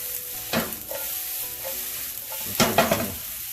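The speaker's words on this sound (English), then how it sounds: "Here you hear that nice sizzle" Thin-sliced mushrooms frying in a pan give a steady close sizzle, with a few louder bursts of crackle and stirring scrapes as the pieces are moved around.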